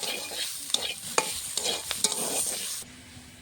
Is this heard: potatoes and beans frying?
yes